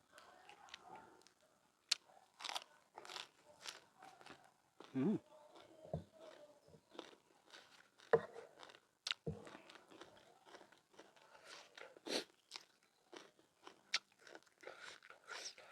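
Crunchy fried fish being bitten and chewed up close, with sharp crisp crackles scattered throughout, served alongside bamboo shoot curry with shrimp and yanang leaf and water mimosa, with a voice speaking at moments.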